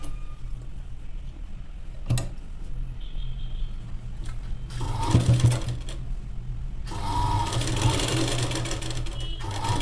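An electric sewing machine stitches piping onto a blouse, its motor whirring in bursts with brief pauses and a longer steady run toward the end, fairly close and with no talk.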